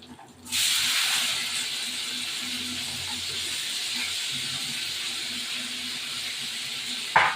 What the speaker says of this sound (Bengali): এই যে পেঁয়াজ কাটা ভাজবো